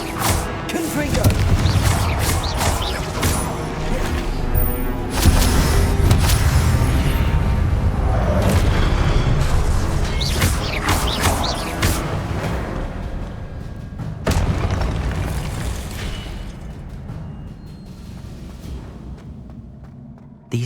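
Confringo blasting spells from the Hogwarts Legacy video game boom repeatedly through dense, loud combat noise, with heavy impacts and crashes layered over a continuous rumble before the din gradually thins out.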